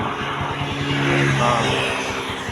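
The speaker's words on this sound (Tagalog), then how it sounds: "Yun yung kanyang sound check, tunog ng kanyang makina." A car engine idles steadily with a low rumbling drone and faint rhythmic pulsing, continuous throughout at moderate loudness.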